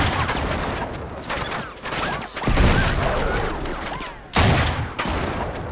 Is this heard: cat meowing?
no